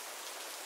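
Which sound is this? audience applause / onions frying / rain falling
rain falling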